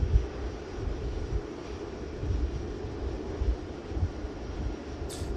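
An Atlas Air Boeing 747 taxis for departure at Manchester Airport, giving off a steady, distant low rumble of engine noise that stays even throughout with no voices.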